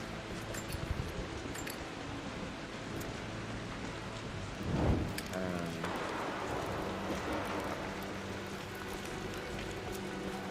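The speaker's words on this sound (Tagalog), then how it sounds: "Kasi umuulan dito, di ba?" Steady video game rain hisses throughout at a soft, even level, with a low rumble swelling briefly midway.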